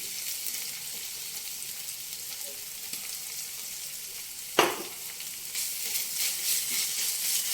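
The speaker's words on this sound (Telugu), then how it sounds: "ఇప్పుడు ఇందులో కొంచెం మనం అల్లం వెల్లుల్లి పేస్ట్ వేసుకుందాం." Freshly pounded ginger-garlic paste frying in hot oil for a bitter gourd fry, a steady close sizzle throughout with a brief stir or clatter midway and the frying swelling louder toward the end.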